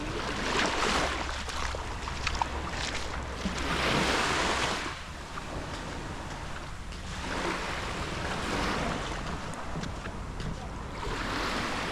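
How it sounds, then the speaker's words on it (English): Surf washes in at Bang Po Beach on Koh Samui, Thailand, swelling and receding in broad rolling surges beneath steady wind buffeting the microphone, with no talking. "this is Bangkok Beach here in Koh Samui, Thailand"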